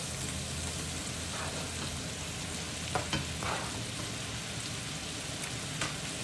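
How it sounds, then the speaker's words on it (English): Sliced mushrooms hitting hot onions in a pan, a soft, even sizzle like light rain with a couple of faint clinks, quiet and steady with no speech. "To that, we're going to add 1 pound of sliced mushrooms"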